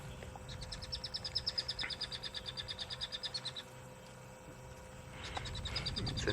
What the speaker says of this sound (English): I have no idea what's making that noise or what kind of bird.